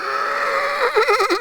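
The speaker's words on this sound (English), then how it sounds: "One wild and woolly sheep." A cartoon sheep in the Toonstruck video game lets out a wavering, quavering bleat, starting after a short sustained tone and pulsing in several close, loud wobbles.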